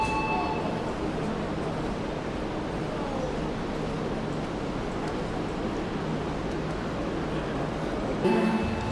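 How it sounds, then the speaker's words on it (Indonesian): The Fajar Utama Solo–Jakarta train carries on at a steady pace, its even, continuous interior rumble and hiss moderately loud from start to finish, with no voices and a brief bump near the end. "perjalanan kereta api Fajar Utama Solo Jakarta masih jauh guys"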